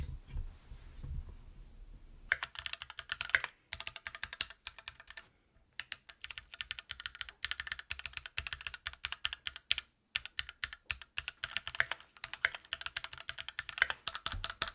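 Close, rapid typing on a Keychron aluminium mechanical keyboard with an AZERTY layout, a dense stream of crisp clacky keystrokes broken by a few short pauses.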